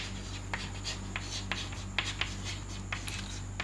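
Chalk writing on a blackboard in a chemistry classroom: soft scratchy strokes and light taps come in irregular bursts over a steady low electrical hum, with no voice.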